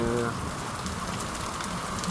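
Heavy rain pours steadily around a campsite restaurant, a dense, even hiss of drops drumming on surfaces, with faint voices briefly audible at the start.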